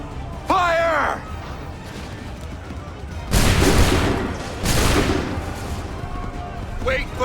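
Musket volleys crack out in an Assassin's Creed 3 battle, two loud sustained bursts of massed gunfire roaring for about a second each, with a shouted voice and battlefield ambience between them.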